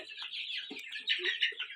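A second incubator-hatched batch of 57 chicks cheeps nonstop in a new coop, a dense, shrill chorus of many overlapping high peeps, steady and fairly close.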